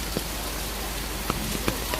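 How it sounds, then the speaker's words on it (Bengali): Steady broadband hiss of heavy downpour rain at a market, falling on a surface, with a few scattered louder drips and taps standing out over the continuous wash. "এখানে এসে দাঁড়িয়ে রয়েছি, যে প্রচুর বৃষ্টি নামছে"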